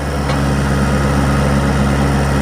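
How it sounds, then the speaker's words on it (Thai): Four-cylinder non-turbo diesel engine of a Komatsu PC60-5 excavator working on a sticky, muddy site, a steady close, loud droning rumble with constant low throb and no voices. "เอาเรามาชมการทำงานของเจ้า PC 60ขีด5ครับซีเรียนสูงครับ เครื่องยนต์ 4 สูบครับ ไม่มีเทอร์โบนะ"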